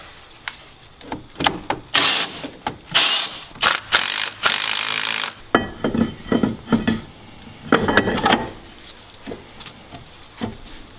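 An impact tool zaps wheel bearing bolts tight on a 2009 Jeep Commander in loud, short bursts, mixed with metallic clanks and ratcheting clicks, close by in a workshop.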